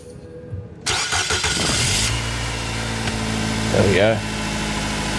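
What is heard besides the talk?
car engine starting and idling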